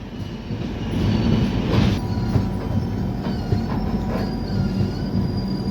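At Sindhudurg station on the Konkan Railway, the Mumbai Mangaluru Express rumbles past in monsoon, a loud continuous roll of wagons with wheel clatter and high squeals rising over the steady din.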